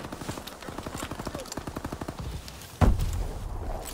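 A rapid string of automatic gunfire from a Call of Duty: Advanced Warfare match kill cam, followed by a single loud, close shotgun blast with a lingering boom.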